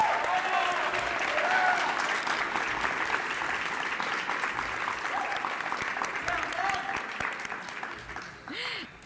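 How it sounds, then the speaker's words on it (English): Audience applause at a high school national letter of intent signing, steady dense clapping from a room full of people that slowly thins toward the end, with a brief voice from a loudspeaker underneath. "Keep that applause going as we welcome to the podium the man of the hour, Alex Pañiagua."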